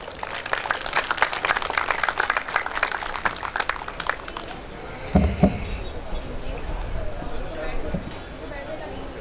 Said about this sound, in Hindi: आप सब लोगों की भरपूर तालियों में जनाब अतबाफ अबरक साहब